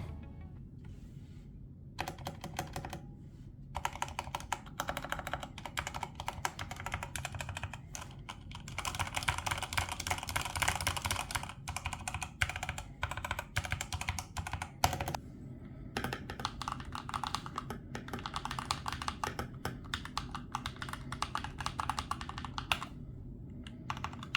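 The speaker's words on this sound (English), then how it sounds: "Now that the keyboard is complete, it's time to do a sound test." Steady, continuous typing on a modded Magegee SKY68 mechanical keyboard, with rapid muffled key clacks at close range for a long stretch.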